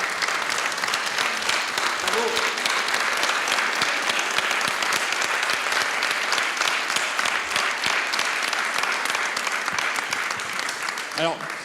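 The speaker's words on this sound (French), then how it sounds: "On peut les applaudir." Audience at an educational game awards ceremony applauding the game creators, sustained dense clapping throughout with a voice cutting in at the very end.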